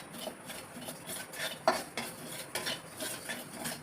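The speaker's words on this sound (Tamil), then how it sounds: "இப்போ சீரகம் மட்டும் தனியாக வறுக்கிறீங்க" Cumin seeds are dry-roasted alone in a pan, stirred with a utensil that scrapes and clinks against the metal in soft, irregular strokes, with faint rustling of the seeds, close but quiet.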